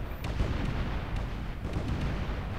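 A ship blowing apart in Space Engineers, rolling booms and rapid crackling detonations packed into a loud, continuous low rumble with sharp pops scattered throughout.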